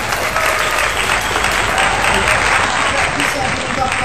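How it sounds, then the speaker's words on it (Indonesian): Steady applause from an audience standing to clap at an Indonesian TRC event, loud and dense throughout, with a faint voice mixed in. "Berdiri, tepuk tangan."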